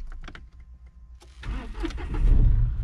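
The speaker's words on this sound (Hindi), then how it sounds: "आप गाड़ी को स्टार्ट कीजिए" Car engine started during a driving lesson with the clutch pressed: a few soft clicks, then the starter cranks and the engine catches, settling into a rising, steady idle that grows louder toward the end.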